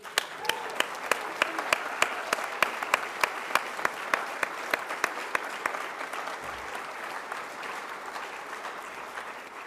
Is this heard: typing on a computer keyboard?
no